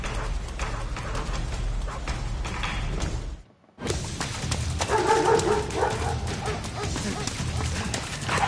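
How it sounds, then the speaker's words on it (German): Dogs bark and yip inside the stealth game Metal Gear Solid 3: Snake Eater, with game sound continuing around them and a brief silent cut midway. "Alter, gleich 2 Hunde."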